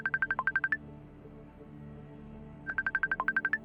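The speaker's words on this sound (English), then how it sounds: "my phone started ringing" A mobile phone ringing, two bursts of rapid, trilling electronic tones separated by a pause, clear and moderately close over a low background hum.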